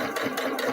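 A sewing machine makes a short mechanical whir of a single back stitch on a quilted Brigid's Cross table mat, brief and close with no talk.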